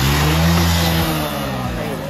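A Yamaha R15 V3 or V4 or a KTM RC200 sport motorcycle revs hard and close during a Sunday drag race, its engine roar loud and sustained under a voice talking over it.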